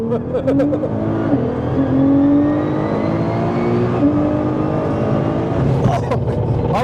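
A 1000hp Nissan GTR with four-wheel drive powers hard out of a track corner, its engine climbing loudly and steadily with rising harmonics, the note dipping once at a shift before pulling again, with people talking over it.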